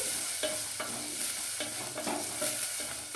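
Onions sizzle steadily in hot oil while a spoon stirs them. The stirring scrapes and taps sound close over a continuous frying hiss, with no talking.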